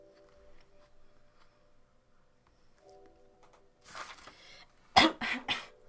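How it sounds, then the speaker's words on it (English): A person in a quiet room gives a cough blended with a sneeze, a sudden burst followed by two quick harsh coughs near the end, after a faint low hum. "That was like a sneeze mixed with a cough."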